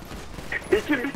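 Gunfire erupts in a GTA roleplay video game shootout, a few sharp shots close together over constant game noise while players talk.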